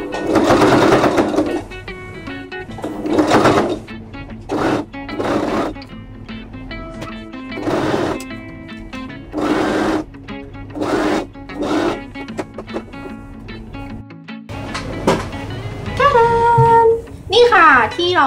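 Sewing machine stitching red and white binding onto the sleeves and neck of a dog costume: repeated whirring bursts of stitching, loud and close, stop and start while someone talks between and over them.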